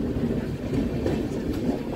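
A passenger train hauled by a WAG-7 electric locomotive on the Howrah route to Patna, a steady rumbling roll with faint rhythmic wheel clatter heard from on board, continuous and moderately loud.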